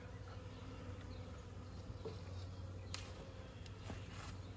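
Honey bees buzzing around a hive at a learning center, a faint continuous drone of many insects with a few brief louder passes near the microphone, no talk.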